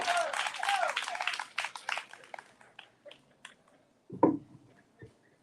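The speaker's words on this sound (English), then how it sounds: "Give him another round of applause, please." Audience applause at a Sunflower County candidates forum, with cheering voices mixed in. It bursts in loud and dense, then thins over a few seconds into scattered claps and a few stray knocks.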